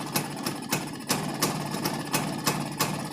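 A Rajdoot 175 motorcycle idles during carburetor tuning, a low steady putter punctuated by regular sharp ticking beats about three times a second, fairly quiet with no talk.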